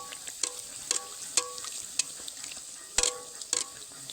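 Colour kadam luchi puffs up while frying in hot oil, as oil is splashed over it in a steady sizzle punctuated by sharp, bright spatters and clicks every half second or so.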